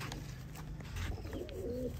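Sialkoti pigeons coo softly in a loft, a few low murmuring calls close by with no talk over them.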